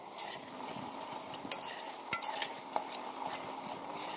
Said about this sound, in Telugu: ఒకసారి మనము మంచిగా కలుపుకుందాం